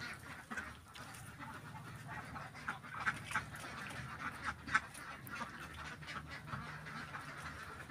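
Laying ducks on a farm quack repeatedly in a steady, overlapping chorus. The calls are moderately near and fairly quiet, heard alone without talk.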